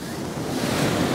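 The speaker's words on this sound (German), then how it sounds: "Und wenn die Wellen kommen" Ocean surf breaking on wet rocks at Haukland or Uttakleiv beach in Lofoten, Norway, a close, swelling roar of crashing water with wind buffeting the microphone.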